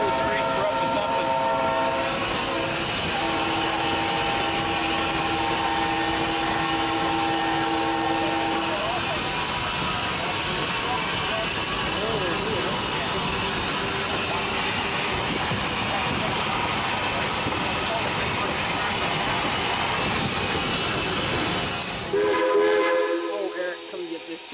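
Inside the cab of L&N #152, a steam locomotive at the Kentucky Railway Museum, there is a steady mechanical roar and clatter with whistle-like tones. The noise cuts off abruptly near the end, and speech is mixed in.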